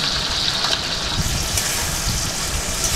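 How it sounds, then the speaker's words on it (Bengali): A sauce mixture being poured into a pan of chilli baby corn, a steady close rushing gush and hiss that continues unbroken throughout, with no talking. "এইবার আমি সসের যে মিশ্রণটা রয়েছে সেই মিশ্রণটা আমি এর মধ্যে দিয়ে দিলাম"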